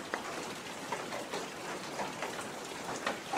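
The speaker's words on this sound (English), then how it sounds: "I love the rain sound effect." Rain falls steadily, a dense, soft hiss of drops on surfaces with scattered louder individual patters, continuous and close, with no voices.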